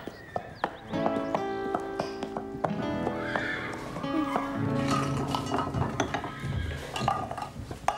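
Horse hooves clop in an uneven rhythm close by, with a horse whinnying and some rattling clatter mixed in.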